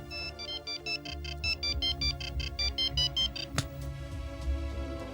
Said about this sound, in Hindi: उसके पास ये कीबोर्ड 22 मोबाइल फोन है, जिसका रिंगर कुछ इस प्रकार है।